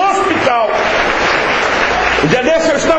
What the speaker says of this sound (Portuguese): Você pode novamente aplaudir ao Senhor